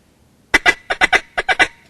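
A duck call blown in a quick higher-pitched tick variation mimicking several feeding ducks: eight short, close quacking notes in uneven pairs and triplets, loud and alone after a brief silence.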